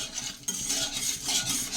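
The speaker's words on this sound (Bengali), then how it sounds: "বাদাম দিয়ে মুড়ি ভাজা হবে, কাঁচা বাদাম দিয়ে মুড়ি ভাজা" Raw peanuts and puffed rice fry in a pan with a dense, continuous scratchy rattle as a utensil stirs and scrapes through them, close and even in level throughout.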